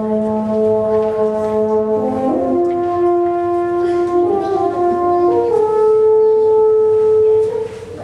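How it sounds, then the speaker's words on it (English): French horns playing a slow, sustained tune together in a children's concert setting, with mellow held notes moving stepwise, full and close with no talking. "And so the horns, sometimes called French horns, will sound like this."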